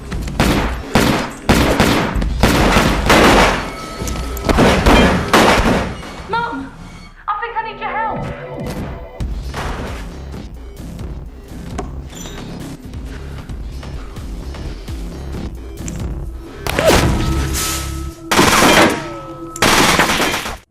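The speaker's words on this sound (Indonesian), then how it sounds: "aksi menegangkan tukar peluru antara geng Richie dan juga geng Aaron" A gang shootout in a film erupts in loud bursts of rapid automatic fire and single shots, pauses midway under a quieter stretch with voices, then resumes with more heavy volleys near the end.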